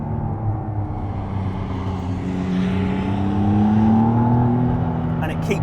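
A McLaren Artura plug-in hybrid V6 supercar accelerates hard, its engine note climbing steadily in a strong, continuous rumble that swells louder toward the end, with a voice faintly present underneath.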